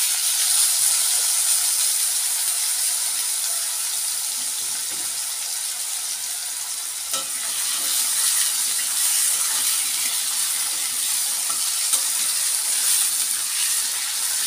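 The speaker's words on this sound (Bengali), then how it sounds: "এবার আমি আলুগুলোকে ভেজে নেব।" Potatoes fry in hot oil in a pan, a steady broad sizzling hiss that runs continuously and evenly close up, with no talk.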